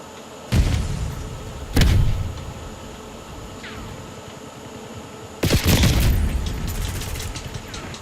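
Frag grenades explode in Call of Duty multiplayer, three heavy booms with rumbling tails, the last a doubled blast followed by scattered gunfire, loud and alone without talk.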